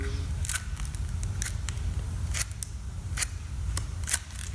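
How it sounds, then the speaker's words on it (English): Scissors snip through band file sandpaper in a series of sharp, close crisp cuts, about eight irregular snips over a low background hum. "And then you can just trim it where you need to."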